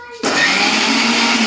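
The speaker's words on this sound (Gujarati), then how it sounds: "મિક્સરમાં હમણાં પીસી નાખશું" A kitchen mixer grinder grinding spices for batata vada starts abruptly and runs loud and steady close by, a continuous high whine filling the rest of the clip.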